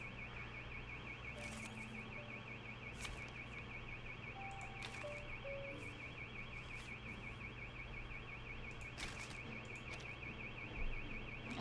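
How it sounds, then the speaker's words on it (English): A car alarm on the street outside cycles continuously through a rapid warbling electronic tone. It is muffled and distant, heard through walls under a steady hum, with a few faint chirps and clicks nearby. "there's a car on the street that can't stop blaring the alarms"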